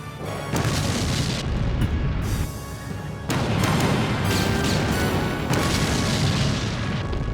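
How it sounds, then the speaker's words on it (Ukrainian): A loud, sustained rumbling explosion destroys rocks at an entrance in the anime Last Exile, with crashing debris, the roar surging in waves and continuing for several seconds. "Скелі на вході знищені вибухом."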